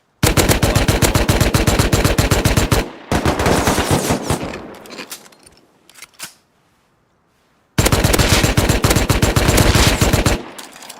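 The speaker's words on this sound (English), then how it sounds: "I want you to see some footage of what you can experience with guns in this hardcore survival game" Sustained automatic gunfire during a PvP fight in the survival game Rust, loud rapid bursts lasting several seconds, a quieter stretch of shots and silence, then another long loud burst.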